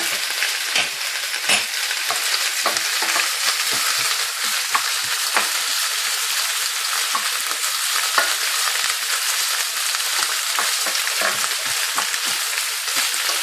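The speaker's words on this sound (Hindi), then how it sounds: "मैंने अभी साथ ही उसको भी तलना शुरू कर दिया" Frozen okra frying in a pan of hot oil for an okra and potato curry, a loud, dense, continuous crackling sizzle with rapid pops throughout, close up and alone without talking.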